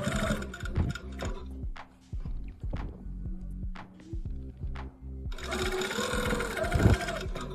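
A sewing machine stitches back over existing stitches on fabric scraps, its needle running in bursts with short pauses, close and fairly loud with no talking.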